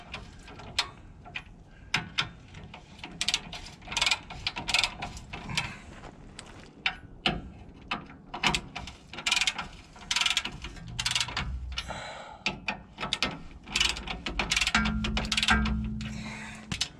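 Ratchet snugging the leaf spring bolts on a Chevy Silverado during a 1.5 inch rear add-a-leaf lift install, with repeated quick clicking bursts and metallic taps at close range, continuing irregularly throughout.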